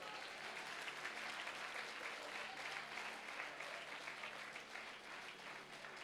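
Enthusiastic applause from a church congregation praising Jesus during a Hindi-language sermon, a continuous even roar of many hands clapping for several seconds, heard from some distance and fairly quiet.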